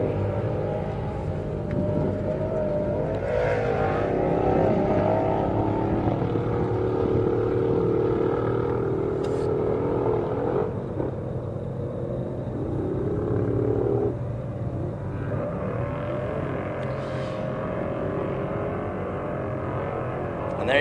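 Baja off-road race truck of Todd Jackson on a qualifying run in Nevada, its engine droning loud and steady with shifting pitch throughout, rising and falling as it works through silty terrain.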